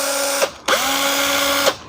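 A Makita 6270D 12-volt cordless drill running on a modified 18650 battery pack: two close, steady high whines, the first short, then a brief pause, then a longer run that spins up and stops cleanly.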